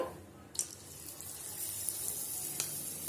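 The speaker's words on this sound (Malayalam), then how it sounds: "ഇനി നമുക്കിതിലേക്ക് മാവ് കുറച്ച് ഒറ്റായിട്ട് ഒഴിച്ചു കൊടുക്കാം." Spoonfuls of pakkavada batter drop into hot oil in a kadai, each setting off a sharp burst of crackle that settles into a steady close sizzle.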